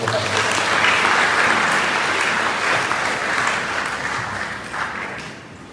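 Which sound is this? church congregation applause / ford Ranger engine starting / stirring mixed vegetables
church congregation applause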